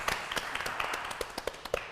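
A few soft, fairly quick handclaps sound close by, about eight sharp taps in under two seconds, some stronger than others.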